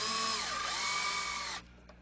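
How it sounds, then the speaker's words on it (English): A power drill whines steadily while driving screws into traditional kitchen cabinet door hinges. The close, loud motor tone holds for about a second and a half, then cuts off abruptly, leaving a brief faint tap. "Traditional hinges are screwed in with the drill."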